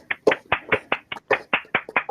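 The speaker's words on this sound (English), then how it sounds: "Round of applause for Dominic" Applause for a student presentation, though it sounds like a single person's hands clapping close by, about a dozen sharp, evenly spaced claps in a quick steady rhythm.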